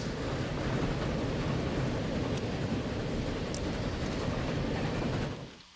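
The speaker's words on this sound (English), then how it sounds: "So, in the meantime, we will let the trains run." Trains run along a mainline in the video game Transport Fever, a steady, loud rumbling roll with a few faint clicks, then fading away near the end with no voices.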